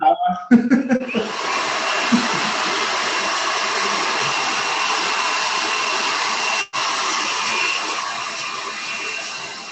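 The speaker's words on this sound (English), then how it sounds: "I'm going to use the hairdryer for a second because I will not be able to hear" A hair dryer starts up after a brief moment of voices and laughter, then blows in a loud, steady roar close by, briefly cutting out once.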